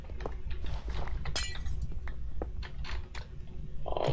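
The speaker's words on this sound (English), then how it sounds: "Did you just break our only redstone lamp?" In Minecraft, a redstone lamp is broken with a glassy noise: a run of bright clinks and crisp shattering bursts, fairly close over a soft background.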